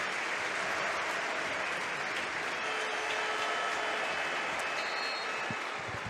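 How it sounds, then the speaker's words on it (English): Stadium crowd at a Barcelona vs Mallorca football match applauding, a dense, continuous roar of clapping from many fans that holds steady and loud from start to finish. "Generous applause for both."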